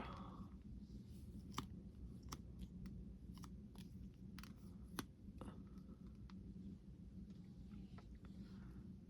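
Chinese elm roots are snipped back with small shears during repotting: a scattering of faint, sharp cuts spaced a second or so apart over a low, steady background rumble.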